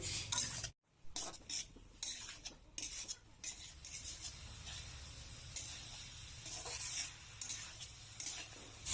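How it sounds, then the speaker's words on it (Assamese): Jackfruit and potato fry in a pan with turmeric and salt, a steady close sizzle broken by repeated scraping and stirring clatters of a utensil, with one brief silent gap near the start. "হালধি আৰু নিমখখিনি দিয়া হোৱাৰ পিছত 5 মিনিটমান সময় ভালদৰে ভাজি থাকিম।"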